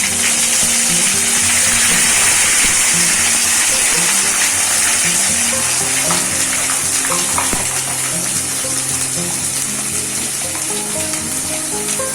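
Onions fry in hot oil with whole garam masala, cardamom and cinnamon, giving a loud, continuous sizzle close up, with occasional clinks of a utensil stirring in the pan.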